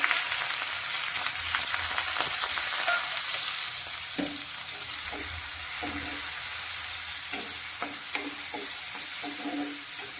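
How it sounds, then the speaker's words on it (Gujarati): A medium-sized chopped onion sautés in a pan, a loud continuous hiss and sizzle with occasional soft stirring scrapes, close and steady throughout, no voices. "ડુંગળીને હવે આપણે એકાદ મિનિટ જેવી સાંતરીશું થોડો તેનો કલર બદલાઈ જાય અને સોફ્ટ થાય ત્યાં સુધી તેને આપણે સાંતરીશું"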